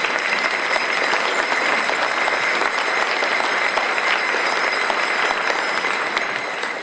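Loud, sustained applause from a large crowd at a Rotary senior luncheon, dense and steady throughout with no pauses.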